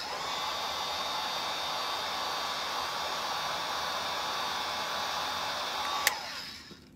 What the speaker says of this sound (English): You got to heat it up with the heat gun.